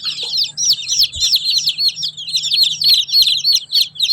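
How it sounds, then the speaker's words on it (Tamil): A crowd of tiny day-old Siruvidai chicks peeping nonstop, a dense chorus of shrill, overlapping chirps close by, with a faint low hum underneath. "ஒரு நாள் கோழி குஞ்சு."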